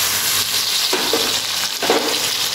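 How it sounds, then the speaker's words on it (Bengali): Chopped tomatoes are tipped into chicken do pyaza frying in a pan, making a loud, dense hiss of sizzling oil with a couple of soft splashy bursts, close and continuous. "এবার আমি এর মধ্যে দেবো কেটে রাখা টমেটোগুলো"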